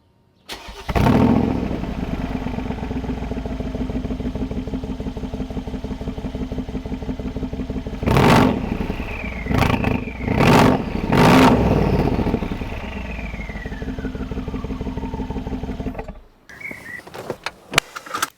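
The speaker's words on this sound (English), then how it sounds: "I want to show you the cold start of the Capristo exhaust system." The large V8 engine of an AMG G63 with a Capristo sports exhaust cold-starts, cranking and firing into a loud, rumbling idle, with several sharp throttle blips roaring up and settling back before cutting off.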